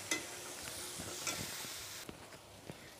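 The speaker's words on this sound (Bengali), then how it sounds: "এখন এটাকে আমি ভালো করে নেড়ে চেড়ে সুন্দর করে ভেজে নিব" Spices frying in a pan while being stirred, a soft continuous sizzle with a few light scrapes and taps, faint and close, no one speaking.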